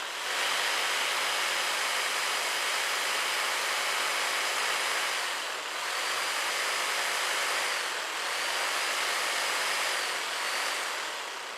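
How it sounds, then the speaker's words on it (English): A reciprocating saw runs off an ATB WL-1800 portable power station, a loud steady high-pitched motor whine with a couple of brief dips, close and alone with no talk. "I'm going to start with the reciprocating saw and just show that it can power that."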